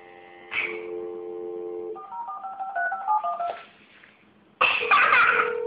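Telephone keypad dialing tones, a quick run of clear beeping notes, preceded by a short cough-like burst and followed by a loud noisy burst.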